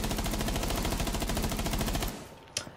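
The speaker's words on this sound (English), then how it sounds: "The MPX, guys, it's a fast rate of fire weapon, low damage, so you want to put out as much rounds as you can when you shoot." Rapid, continuous automatic fire from an MPX in a shooter game, loud and close with an evenly spaced rattle of shots for two seconds, then abruptly stopping, followed by a single sharp click or impact.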